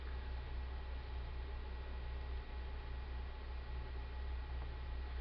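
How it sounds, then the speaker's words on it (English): Plain uniformly distributed random noise, flat rather than Gaussian or pink, hisses steadily and faintly throughout with no breaks or voices. "this noise has a uniform probability distribution function, which is to say that it is not Gaussian noise, and it's not pink noise"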